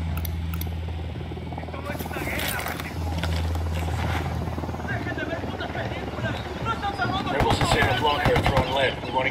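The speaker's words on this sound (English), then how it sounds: "Deploying drone." A drone launches in the Ghost Recon Wildlands video game, a whirring rotor hum with clattering game effects and bursts of gunfire, under in-game radio talk.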